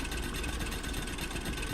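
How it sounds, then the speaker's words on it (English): Mining drills running in the video game Factorio make a dense continuous mechanical drone, a steady low rumbling and whirring churn with no pauses and no voices. "What you hear is the mines running."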